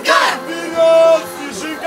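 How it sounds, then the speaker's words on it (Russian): Fans of the Snezhinka team chant in unison at an amateur ice hockey tournament game in Gorki: a short burst of massed, rhythmic shouting voices rising and falling in the arena. "И хотя болельщики «Снежинки» без устали скандировали кричалки"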